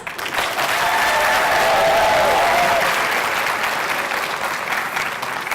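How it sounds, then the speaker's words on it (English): An audience in Edmonton applauds at a graduation celebration for Somali students, a dense, sustained roar of clapping from a large crowd, loud and steady throughout with a faint whistle or cheer mixed in. "Can I please get a round of applause?"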